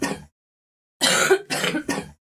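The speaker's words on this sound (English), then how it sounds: "Don't keep coughing so," Several sharp, harsh coughs close by: one short cough, a pause, then three quick coughs in a row.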